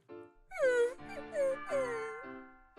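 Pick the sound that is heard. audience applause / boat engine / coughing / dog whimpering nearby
dog whimpering nearby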